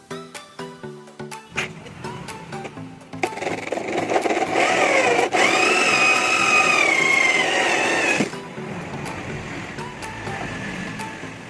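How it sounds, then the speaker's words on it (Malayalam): A hole being cut in the top of a homemade trolley Bluetooth speaker box with a power tool, a sustained whining grind running for several seconds, loud and close, between quieter handling sounds. "അപ്പോൾ ഹോള് കട്ട് ചെയ്തെടുത്തിട്ടുണ്ട്."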